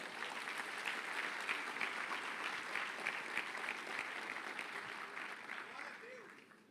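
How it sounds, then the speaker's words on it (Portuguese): Church congregation applauding during a sermon, a sustained wash of many hands clapping at moderate level, tapering off near the end, with voices mixed in. "Vamos dar um aplauso ao Senhor"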